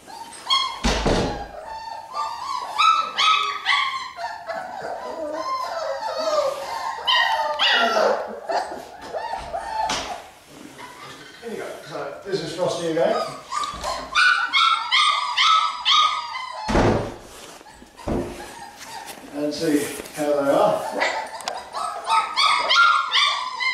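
Four-week-old Berger Blanc Suisse puppies bark, yip and whimper close by in a busy, almost continuous stream of high-pitched cries, with a few dull thumps.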